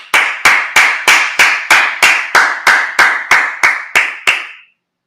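A congregation at a Sabbath service claps in unison, about fourteen sharp, evenly spaced claps at a brisk steady rhythm, loud and close, then stopping abruptly.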